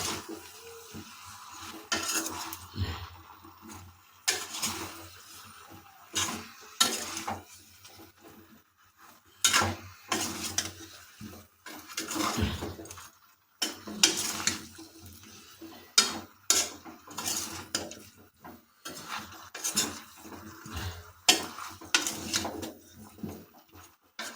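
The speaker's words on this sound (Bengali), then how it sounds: "এটা হাতাতে ভালোভাবে মিনিট পাঁচেক ধরে লোকমে কষিয়ে নেব" A ladle stirring chicken, winter vegetables and ground spices for a thin curry in a metal pot, with repeated loud scraping and clanking strokes over a low sizzle and short quiet gaps between bursts, no voices.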